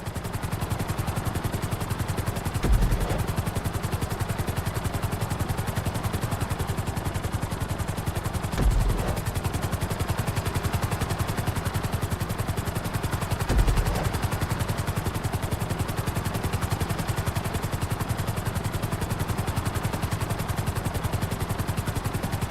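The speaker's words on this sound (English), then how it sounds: "Bring the helicopter down gently onto the helipad." Continuous rapid chopping drone of a helicopter's rotors in the video game GTA V, steady and close, with a few brief dull thumps spaced several seconds apart.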